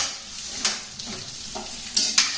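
Lamb chops brown and sizzle in a hot pan with a steady hiss, broken by a few sharp spatters and scrapes of stirring, no talking.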